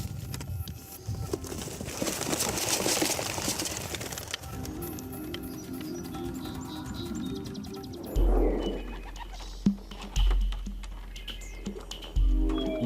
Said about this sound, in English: we open the box and let the pigeons go